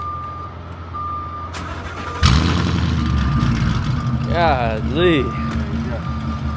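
A Ford Mustang engine cranks and roars to life, idling with a deep rumble and rising revs, while a steady beeping sounds and a voice speaks briefly.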